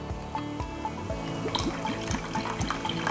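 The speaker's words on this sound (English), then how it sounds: "And then I have some black pepper marinade. I'm gonna probably add quite a bit of this." Black pepper marinade is poured over beef jerky, giving a steady liquid trickle with rhythmic glugging splashes, close and moderately loud, with no talk.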